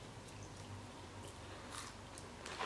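Quiet, close chewing of a crunchy healthy snack, soft rhythmic bites and crunches with no talking.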